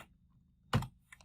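Keyboard keys pressed together to switch a 2-port KVM between two PCs: a single sharp clustered clack near the end, followed by a couple of faint lighter clicks in a quiet room.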